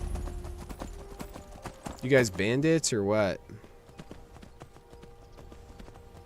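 A horse's hooves clip-clop in Skyrim, a steady rhythmic patter throughout, briefly joined by a loud, pitched voice and a character speaking in the middle.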